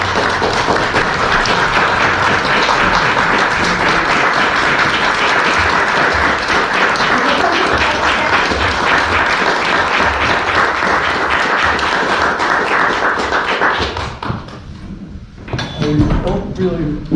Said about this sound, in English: So let's have a applause for Norm.